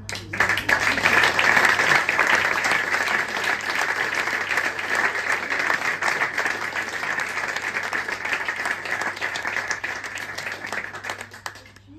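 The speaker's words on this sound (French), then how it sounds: "On peut applaudir." Theatre audience applauding at length, a dense, loud wash of clapping that holds steady and then tapers off near the end.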